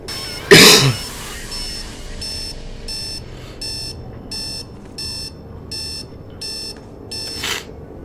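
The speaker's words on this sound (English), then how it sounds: "Wait, he sets an alarm clock" An alarm clock in Dead Space 3 rings in a steady run of evenly spaced electronic beeps, loud and close, after a sharp cough near the start.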